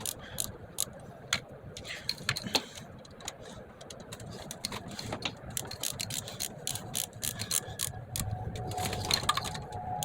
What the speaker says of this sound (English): I just reverted back to my quarter drive 5/16 12 point with a 1/4 to 3/8 adapter on my 3/8 torque wrench